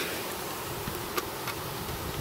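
A honeybee swarm buzzes steadily and loudly up close, a dense continuous hum with no voices over it.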